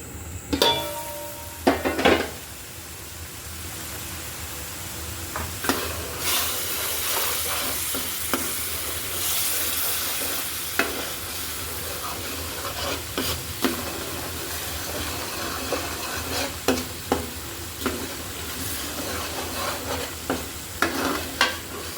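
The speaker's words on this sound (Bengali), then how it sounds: "মিডিয়াম আছে আমি মশলাটা কষিয়ে নিচ্ছি" Spice paste frying in a pan for a fish curry, a steady sizzle under repeated scraping and clinking of a metal spoon against the pan, with bursts of louder hiss and sharp knocks scattered throughout.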